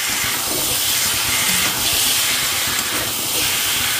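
Water poured onto hot spices frying in a pan sends up a loud, steady steam hiss with broad, rushing noise that swells and eases across the whole stretch, no voices.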